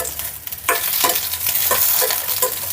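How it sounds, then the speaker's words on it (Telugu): Green chillies fry in a pan for roasted gram chutney while a spoon scrapes and stirs them repeatedly, giving close, loud sizzling broken by rhythmic stirring strokes. "పచ్చిమిర్చిని వేపుకోవాలి అలా వేపుకుంటేనే ఈ చట్నీకి రుచిగా ఉంటుంది"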